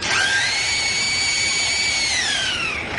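A 30-year-old zoo lyrebird mimics a power drill with a loud, close, continuous whine. The pitch sweeps up, holds steady, then winds back down, just like a real drill spinning up and releasing.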